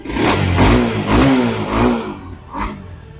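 A Honda CBR motorcycle engine, a used bike for sale, revs lightly in four short throttle blips, each rising and falling back to idle, close and loud.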